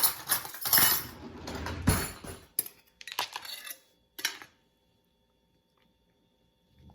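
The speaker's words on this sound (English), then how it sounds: "You just want to gently stir the herbs in there until they are well mixed." A spoon gently stirs fresh herbs into a bowl of thick vegan ranch dressing, giving soft clinks and wet scraping for a few seconds before trailing off into silence.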